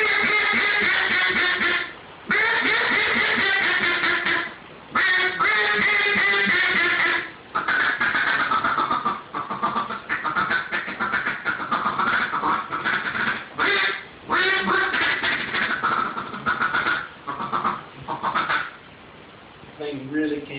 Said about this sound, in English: So that's all of our mallard duck calls